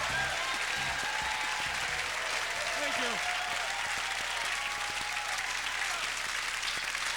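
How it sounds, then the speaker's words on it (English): A comedy club crowd applauds a comedian as he takes the stage, a dense, sustained roar of clapping throughout, with his voice briefly thanking them over it. "I don't know if you're applauding"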